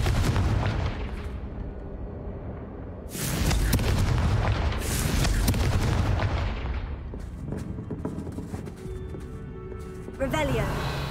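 Fiery Confringo spell explosions in the video game Hogwarts Legacy burst out as loud, heavy booms, several blasts spread across the stretch with rumbling decay between them.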